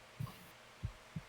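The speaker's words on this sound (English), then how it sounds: "a heartbeat" A low, muffled heartbeat sound effect, a double thump followed by single beats, soft and close in an otherwise quiet setting.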